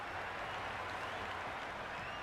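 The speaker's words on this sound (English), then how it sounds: "It's evident and ever so audible that the crowd is at near bursting point at today's play." Crowd applause in the cricket video game Cricket 26 during an India versus Pakistan match, a steady dense roar of clapping and cheering throughout, loud and continuous with no voices standing out.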